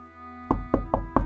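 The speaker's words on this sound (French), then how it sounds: "quelqu'un vint frapper à sa porte" Four sharp knocks on a door come in a steady rhythm after a short quiet hum, close and distinct.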